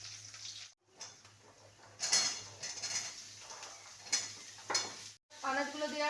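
Onion goes into hot oil in a wok already holding five-spice, dried red chilli and bay leaf, giving a close, hissing sizzle with clatters and scrapes of stirring against the pan.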